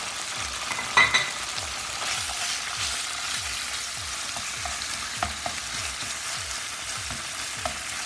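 Turkey strips frying in hot oil in a pan, a loud, steady close sizzle and crackle that continues throughout, with a few sharper pops and spatters and no voices.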